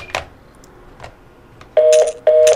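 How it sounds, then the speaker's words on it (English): A telephone left off the hook in a home setting beeps insistently, two loud paired electronic tones following a few faint clicks, with no talking. "Oh, now it's just beeping at me."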